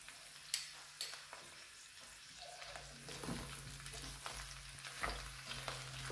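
Pork ribs frying in their own fat with onion and garlic, a soft close sizzle with occasional stirring clacks and spatula knocks, fairly quiet.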